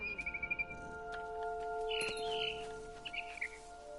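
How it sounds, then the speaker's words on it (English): Barn swallow chirping inside the video game What Remains of Edith Finch, a few short high calls amid soft game ambience with sustained tones. "It was a barn swallow going back to her nest."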